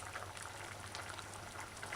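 A pot of chayote and okra stew simmers uncovered on the stove, giving off a steady, soft bubbling hiss with no break, heard close and alone.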